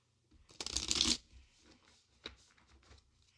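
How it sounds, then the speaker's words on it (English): A deck of oracle cards being shuffled in a tabletop role-playing game, giving a dense riffling burst of about half a second, then a few lighter card taps and slides, close and alone. "I'm going to shuffle for our playable character."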